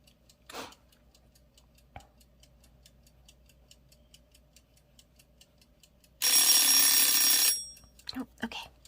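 A drawing timer ticks faintly and sparsely for several seconds, then a loud, bright electronic alarm rings for about a second, followed by brief rustles and a short voice.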